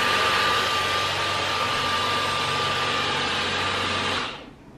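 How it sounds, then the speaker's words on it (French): Household vacuum cleaner running steadily with a loud, whining hum and airy roar for about four seconds before switching off and winding down into quiet. "Alors je voulais juste faire une petite pause à l'aspirateur pour vous montrer."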